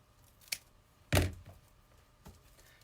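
Scissors snipping ribbon for a train-themed Christmas wreath: a faint click, then one sharp, louder cutting thunk, followed by a quieter snip, close and isolated against a quiet background.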